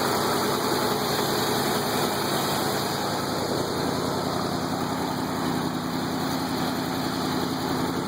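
A 1977 Ford F150 truck engine idles on a cold day after its first start, a steady, even mechanical drone with a constant high whine, close and unbroken throughout.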